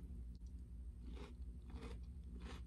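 Crunchy Cinnamon Toast Crunch Minis cereal in oat milk being chewed close up, a few quiet bursts of crunching bites spaced about half a second apart over a low steady hum.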